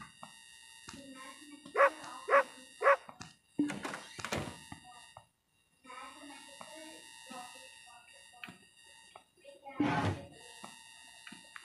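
A dog barks several times in a horror video game, three sharp closely spaced barks followed by heavier thuds and another burst later, with someone talking quietly between them.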